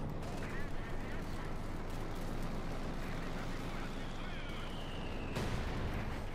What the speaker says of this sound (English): There you go, heavy mortar rounds.